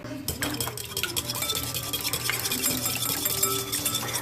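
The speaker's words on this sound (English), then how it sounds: "I'm going to go ahead and whisk up the salt and the eggs first." Eggs and salt are whisked briskly in a bowl for a whole wheat quiche, a fast continuous clinking and scraping of whisk against the dish, close and steady throughout.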